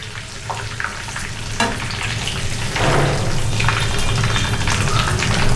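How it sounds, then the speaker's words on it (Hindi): A hot tempering tipped into kadhi sizzles loudly, a dense crackling hiss that swells mid-way and stays strong and close to the end. "अब हम ये बघार डालते हैं कड़ी में"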